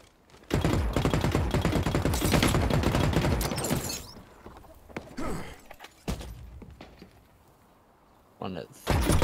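Rapid, dense gunfire in a shooter video game set at a water facility rattles for several seconds. Scattered single shots and thuds follow, then a final short burst near the end.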